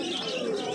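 Madrasi racer pigeons at a pigeon market in Uluberia coo softly amid a dense, murmuring market background, a brief, faint burst of bird sound.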